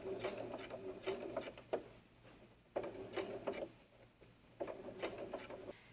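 Sewing machine top stitching around a doll dress, running in three short bursts of rapid mechanical clatter separated by brief pauses, close and clear with no talking.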